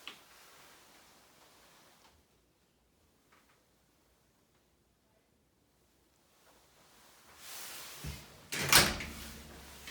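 A bathroom door in a small studio apartment opens toward the shower after a long quiet stretch, ending in a short loud knock and creak close by.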